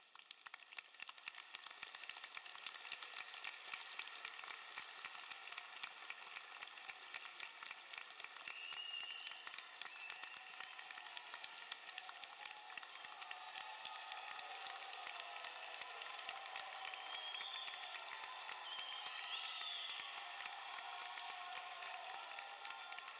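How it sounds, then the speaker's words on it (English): Sustained applause from a large crowd at a college commencement ceremony, steady clapping with scattered cheers rising slightly toward the end, heard from a distance in a big open space. "give them a big round of applause"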